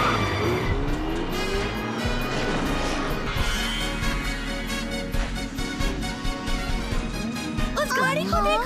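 A car drives by close and loud, with engine noise and tyre squeal under a busy mix of other sounds and voices.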